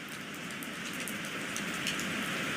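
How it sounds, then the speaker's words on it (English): Steady rain falls in a dense, even hiss, a continuous wash of drops on surfaces with no speech over it. "Now y'all see all this rain."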